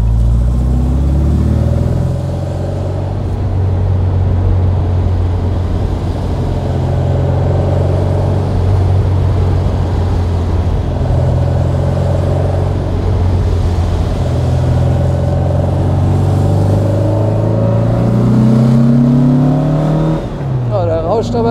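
A 1964 Porsche 356 SC Cabriolet engine drones steadily and loudly from inside the moving car, holding a constant low hum with a rising pitch sweep near the end as it revs.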